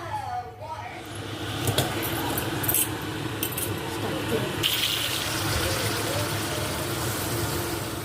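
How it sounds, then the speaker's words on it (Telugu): Water poured steadily into a cooking pot for boiling rice in a home kitchen, a continuous rushing splash lasting several seconds with no talk over it. "ఇప్పుడు దీన్ని మనము వాటర్ వేసి ఉడకబెట్టుకోవాలి"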